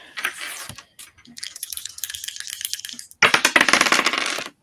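Tabletop role-playing dice rattle and clatter across a table in bursts of small hard clicks, close and fairly loud, with a denser final tumble.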